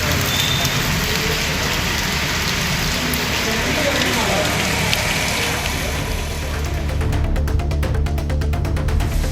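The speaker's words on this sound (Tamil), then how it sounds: "பலத்த காற்றுடன் கனமழை பெய்தது" Heavy rain with strong wind, a dense, continuous roar of downpour hitting surfaces, loud and steady throughout, with a crackling, splattering texture toward the end.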